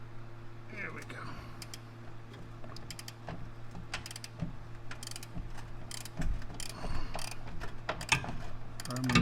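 Ratchet clicking while loosening a bolt on the front suspension of a Porsche Cayman 987.1, a run of close, quick mechanical clicks and short bursts over a steady hum.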